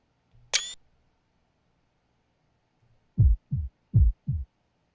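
A heartbeat sound effect from the Fate/Stay Night visual novel: a sharp high-pitched sting, a pause, then four deep, booming thumps in two quick pairs, loud and isolated.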